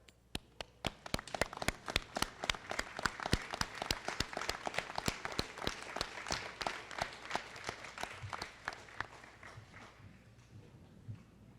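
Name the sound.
graduation audience applause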